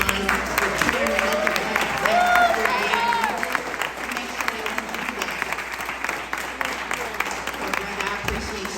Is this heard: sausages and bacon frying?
no